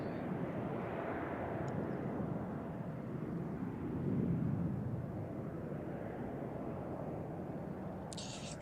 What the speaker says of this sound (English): it's time for the first of the day, the Delta Airlines A350 off to Minneapolis